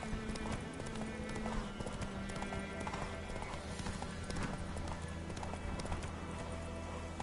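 In The Witcher 3, the horse Roach trots with a steady, continuous clip-clop of hooves, heard up close beneath an ambient game soundscape.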